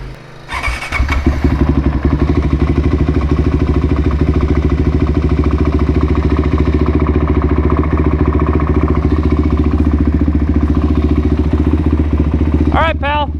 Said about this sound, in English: Gonna go out and get some sound clips for you guys of the new exhaust.